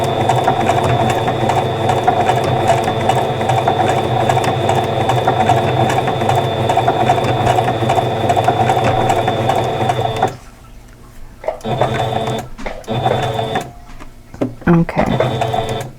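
A sewing machine runs a steady, busy stitching whir while piecing a quilt block. The sound is close and continuous for about ten seconds, then stops and gives way to quieter handling noises and short bursts of stitching.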